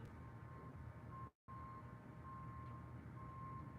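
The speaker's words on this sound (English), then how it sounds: "there's a beeping going on that really distracted me" A thin, steady electronic beep drones over low city traffic rumble, cutting out once briefly before carrying on.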